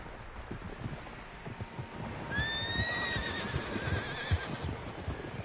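Horses in the video game Red Dead Redemption 2, one clear whinny rising midway over soft hoof clops and quiet outdoor ambience, fairly close and moderately loud, with no speech.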